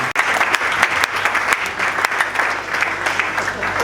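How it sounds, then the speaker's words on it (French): An assembled church audience in Kinshasa breaks into sustained applause, a dense, even wash of clapping that holds for about four seconds without letting up, with faint voices mixed in. "Est-ce qu'on peut applaudir pour ce dimanche archevêque président?"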